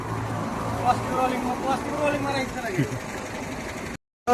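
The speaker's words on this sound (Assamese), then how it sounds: "গাড়ীটো আজি ইঞ্জিন ষ্টাৰ্ট হ'ল" A car engine runs with a steady, close, broadband rumble that holds evenly for about four seconds before cutting out.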